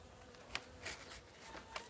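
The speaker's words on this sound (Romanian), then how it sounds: "Albina este un pic agresivă în această perioadă." Honeybees from a weak colony buzzing at an outdoor hive in spring, a faint steady hum with a few brief louder passes of bees flying close by.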